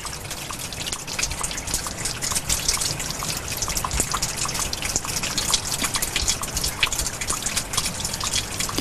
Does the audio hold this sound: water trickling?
yes